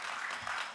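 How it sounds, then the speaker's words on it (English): Brief applause from an audience at an advanced manufacturing conference for event sponsors, a short faint burst of clapping that fades slightly at the end. "So how about a round of applause for all of our sponsors who help make this event a success."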